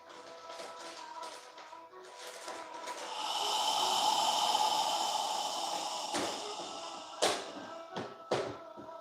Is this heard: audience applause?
no